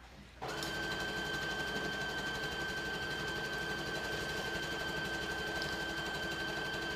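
A sewing machine starts up and stitches a pillow cover in one continuous, close, even run, its motor whirring with a fine rapid needle rhythm and no talk over it.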